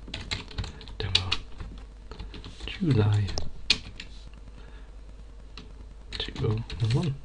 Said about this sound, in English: excuse me if I'm a bit slow typing